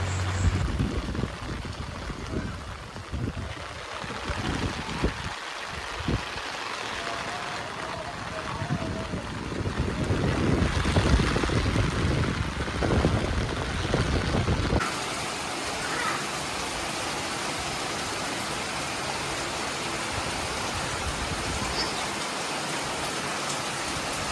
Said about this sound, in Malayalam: ചെറിയൊരു മഴയൊക്കെ തുടങ്ങിയിട്ടുണ്ട്.